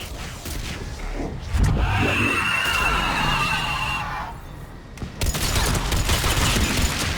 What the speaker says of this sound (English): Missiles are hot. Missiles away.